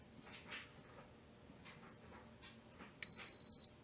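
An Instant Pot pressure cooker, just set to high pressure for three minutes while making chicken and gnocchi soup, gives a single steady electronic beep after a few soft kitchen handling noises.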